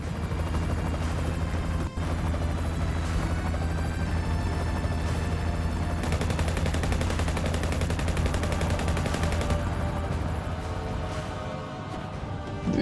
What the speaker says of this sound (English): Barrett, you could have aimed at him. You shot the helicopter.